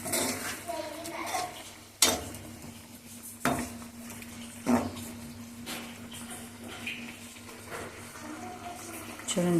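Arbi root curry being stirred in a pan after a half tablespoon of garam masala goes in, giving a few sharp utensil knocks against the pan over a steady kitchen hum, close and moderately loud.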